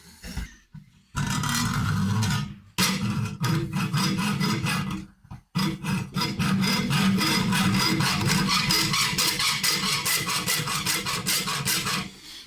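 A hand saw blade rasps through a copper pickup ring clamped in a vise, with steady rapid back-and-forth strokes, close and continuous, pausing briefly twice before resuming.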